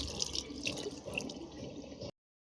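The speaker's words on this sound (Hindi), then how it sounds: "पानी नहीं आ रहा था तो नल सारे खुल रखे थे, उनको बंद कर देते हैं" Water running from open household taps into a sink, a steady low rush and patter at close range that stops abruptly as the flow is shut off.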